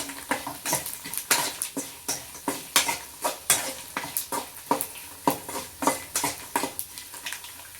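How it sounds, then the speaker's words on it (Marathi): Turmeric frying in hot oil for poha chivda: a loud, steady sizzle with regular scraping strokes of a spoon against the pan, roughly two per second, close and clear without any talking. "ह्या हळद सुद्धा अशी मस्त तळून द्यायची."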